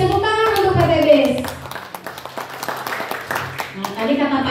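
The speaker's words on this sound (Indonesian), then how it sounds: "Tepuk tangan untuk PTBS." Audience at an Islamic business seminar claps in scattered, uneven bursts, fairly close, with voices and sung or drawn-out speech running over the start and end.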